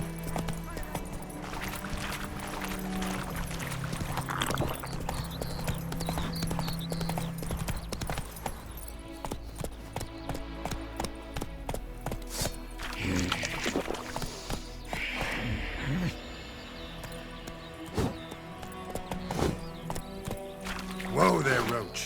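Roach the horse in the video game The Witcher 3: Wild Hunt (PS5 edition), hooves clip-clopping steadily at a gallop with a brief whinny, all under a bed of game music and ambience, voices talking over it.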